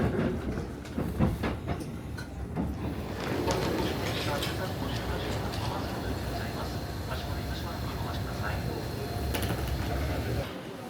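A Japanese local train runs northward near a station, a steady rumble with faint rhythmic clacking heard under a narrating voice.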